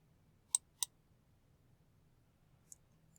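Computer mouse clicking on a website link, two quick sharp clicks in a row followed by a fainter single click a couple of seconds later, close and isolated over a quiet low hum.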